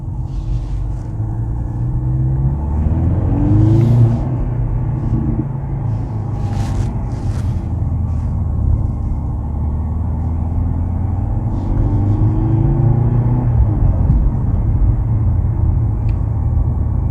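A 2023 Mercedes-AMG C43 cruises through the city of Colmar at night, its engine a steady, deep rumble with a couple of slight swells as it accelerates.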